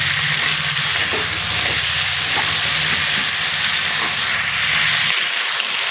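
Cumin, ginger and chilli paste sizzles in hot oil for a Bengali rui fish, drumstick and potato curry, a loud, steady frying hiss close up that continues throughout.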